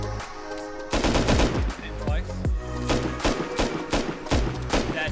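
Gunfire in the survival game Rust: rapid loud shots crack in repeated bursts, some spaced and some close together, up front and dense, with a hint of voices underneath.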